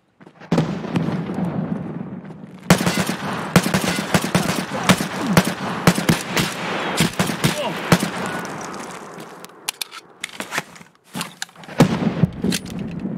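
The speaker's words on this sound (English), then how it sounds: "that gunfire was at me" Rapid bursts of gunfire in Escape from Tarkov crackle in dense volleys, with sharp shots repeating over a low rumble and occasional quieter gaps.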